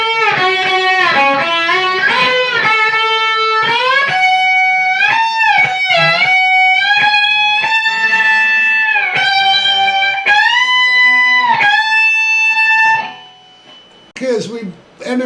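Slide guitar plays a riff on the second string, a continuous run of gliding, sustained notes with smooth pitch bends, loud and close, ending in a brief pause and a few short notes.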